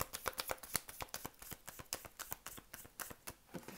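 Tarot cards are gathered and handled, giving a quick run of soft, irregular papery flicks and taps close by, dense and rhythmic throughout with no speech.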